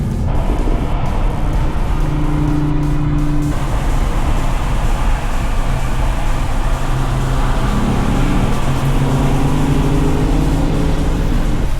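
A Lexus RC F sports car cruises on a spring touring drive through Hakone. A steady, close engine drone rises and falls with throttle changes, with a brief shift of tone partway through.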